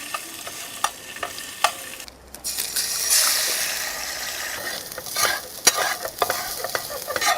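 Eggs and sausages fry in a pan at a campsite for hot dogs, a close, steady sizzle with crackling pops and a few louder spits, no speech.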